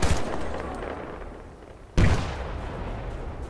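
Grenade launches and blasts in the Battlefield Bad Company 2 shooter, two loud sharp booms about two seconds apart, each followed by a rolling, decaying rumble amid ongoing battle noise.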